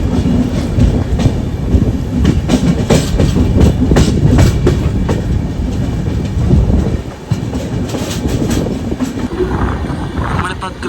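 A Bagmati Express passenger train runs on the tracks toward Krishna Junction, a loud continuous rumble with rhythmic clickety-clack of the wheels. A voice speaks over it from on board.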